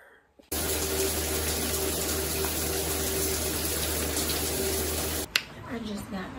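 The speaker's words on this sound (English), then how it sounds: "Let's hop into my little shower." A small home shower runs in a steady, loud hiss of spraying water for about five seconds, then cuts off abruptly, leaving quieter clattering and faint room sounds.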